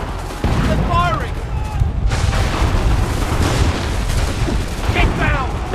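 Enemy gunfire and artillery thunder in Assassin's Creed 3 as repeated heavy booms and cracking shots roll through a battle, loud and dense throughout, with shouting voices mixed in among the blasts.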